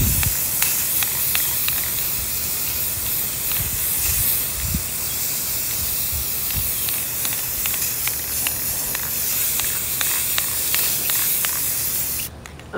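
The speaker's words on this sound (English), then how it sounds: "Thuggy was going to help there for a minute until he smelt that spray." Aerosol spray paint can laying down a second coat on homemade Jeep cowls, a steady close hiss running almost without pause, broken by faint clicks and knocks, ending abruptly.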